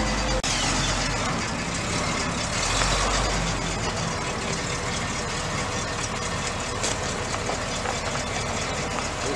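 A 1964 International Loadstar 1890 truck engine idles with a steady, rough low rumble, loud and close throughout.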